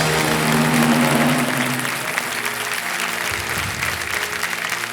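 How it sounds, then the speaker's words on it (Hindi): A television quiz show studio audience applauds in a dense, steady wash of clapping that stays loud throughout and eases slightly toward the end, with a faint voice underneath. "हम भी ताली बजा देते हैं।"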